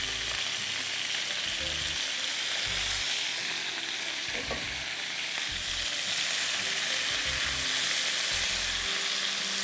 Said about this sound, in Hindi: अब ये मैंने चिकन इसमें वापस डाल दी